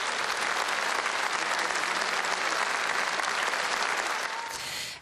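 Dense, sustained applause from a large audience at an event honoring managers, loud and steady throughout before tapering slightly at the end.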